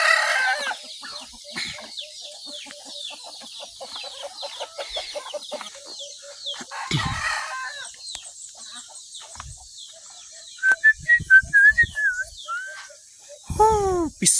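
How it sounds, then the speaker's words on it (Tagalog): Chickens clucking steadily on a rural farm, with a rooster crowing clearly in the middle distance and other birds chattering, some soft talk over the flock. "dami pala nilang manok dito"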